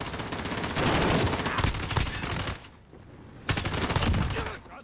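Rapid gunfire in a Call of Duty: Modern Warfare match, dense bursts of shots rattling close by, a brief lull near the middle before another loud volley, with faint voices mixed under the shooting.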